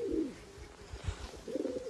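High flyer pigeons coo near the microphone, a few soft low throaty calls in short pulses, with a brief chirp at the start and end over quiet background.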